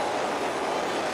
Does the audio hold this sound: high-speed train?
yes